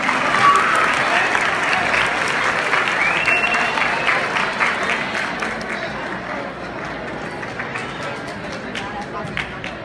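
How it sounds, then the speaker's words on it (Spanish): Loud applause from the audience at a university event honouring the Mazatlán central library, a crowd clapping steadily and then easing a little as it goes on, with some scattered voices and cheers mixed in. "Fuerte el aplauso para Mazatlán."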